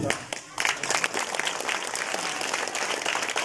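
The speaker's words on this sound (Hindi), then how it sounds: "ताली पीड़ो, ताली पीड़ो।" A youth gathering applauds: many hands clapping densely and continuously, with a brief dip in the first half-second before the clapping swells again and holds.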